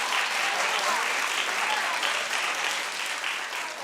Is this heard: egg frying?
no